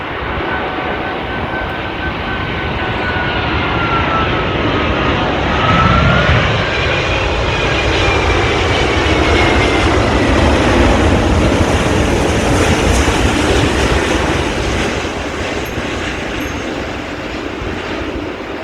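A heavy airliner comes in to land on runway 16 right at Sydney Airport, its loud engine roar holding steady for the whole stretch, swelling slightly midway and easing toward the end, with no voices.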